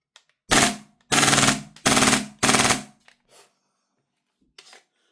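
A VORSK VMP1 airsoft gun fires four short, rapid bursts close by, each a loud rattling buzz of quick shots separated by brief silences, followed by a couple of faint clicks.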